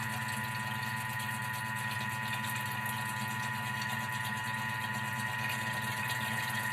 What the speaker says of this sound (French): donc je l'ai mis en marche. 1 minute 30 sur vitesse 4. Ça tourne et là, tout doucement, en filet, je verse l'huile.